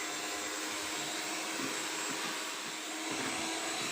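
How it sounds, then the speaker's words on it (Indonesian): An electric mixer whirs steadily through banana butter cake batter, a loud, even motor drone with slight dips in pitch as the beaters move. "langsung di mixer sampai bahan B dan bahan A tercampur rata ya teman-teman"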